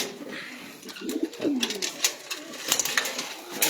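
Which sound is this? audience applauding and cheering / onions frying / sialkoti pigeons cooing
sialkoti pigeons cooing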